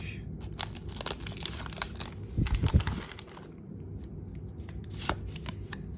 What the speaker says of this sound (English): Open up the pack.